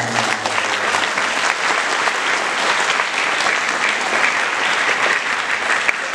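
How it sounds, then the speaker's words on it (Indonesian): A large crowd of students claps loudly and steadily at a school assembly, sustained applause throughout. "Tepuk tangan."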